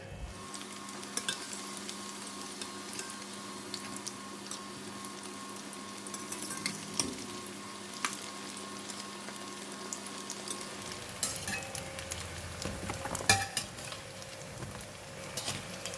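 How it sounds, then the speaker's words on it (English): Tofu frying in oil until crispy and golden for salted egg yolk fried tofu, a steady soft sizzle and bubbling that runs the whole time, with faint clicks and a brief clatter near the end. "We're going to fry until the tofu become crispy and golden brown."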